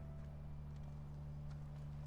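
A horse gallops in The Last of Us, a faint, steady clip-clop of hooves under a constant low hum, with no talk.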